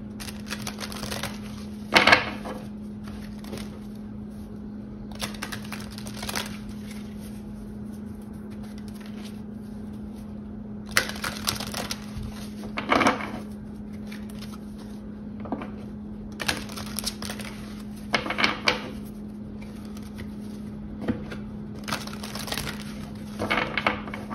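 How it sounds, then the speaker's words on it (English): Tarot cards being shuffled and pulled during a card reading, giving bursts of papery riffling and slapping at irregular intervals over a steady low hum, fairly close and with no talking. "let's pull some cards"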